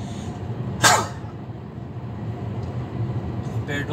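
A single loud, sharp sneeze bursts out from a truck driver inside his cab on the road through Anagé, Bahia, over a steady engine and road rumble.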